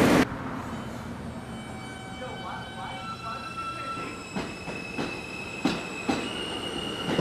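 A Manhattan-bound N subway train near Bay Parkway rumbles along with faint wheel squeals and tonal whine, rhythmic clacks over rail joints toward the end, no talking.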